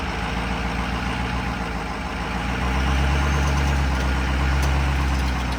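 A truck engine idles, then grows heavier and louder as it pulls a satellite dish out, a steady low rumble with no talking.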